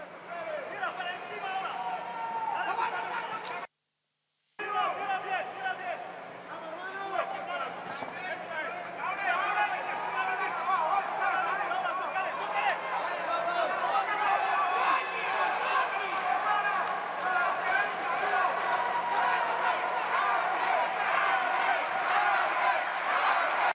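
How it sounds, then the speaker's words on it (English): A boxing crowd at an amateur bout in the IBA Champions' Night, 79.4 kg class, rumbling and cheering steadily in a large hall, with a voice talking over the noise throughout and a brief dropout near the start. "Crowd just trying to get behind Ramirez here."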